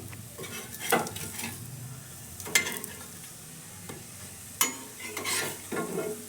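Potato tikkis frying in a pan, a quiet sizzle running underneath with several sharp clinks and scrapes of a utensil against the pan as they are turned, spaced irregularly.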